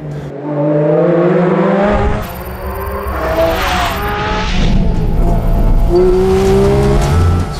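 Porsche 718 Cayman GT4 RS screaming on track at close range: loud, high revs with climbing harmonics, a brief drop between shifts, then more hard acceleration with some tire squeal.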